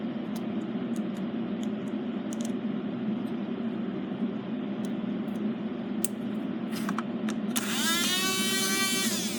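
A T-jet slot car motor fitted with a test armature runs steadily with a rough, continuous mechanical whir and buzz, joined near the end by a rising high whine; no one talks.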